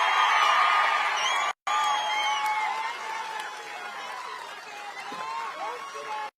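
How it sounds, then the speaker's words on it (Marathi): Crowd at a political rally in Maharashtra cheering and whooping with scattered shouts, a dense roar that briefly cuts out, then continues slightly quieter with excited voices calling over it. "एकदा उठून त्यांच्यासाठी टाळी वाजवा सगळ्यांनी"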